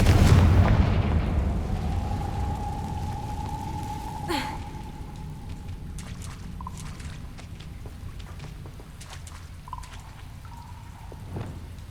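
A Confringo fire spell bursts in Hogwarts Legacy with a loud, broad blast at the start. A sharp crack follows a few seconds later, over a steady humming tone and a fading rumble.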